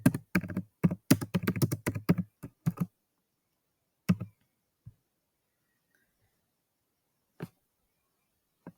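Quick bursts of computer keyboard keystrokes while working in Google Sheets, clustered clicks at first and then a few isolated taps separated by silence, close and clear.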